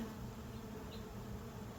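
Honey bees from a frameless bee package hum in a dense, steady, unbroken buzz that stays even and fairly close throughout.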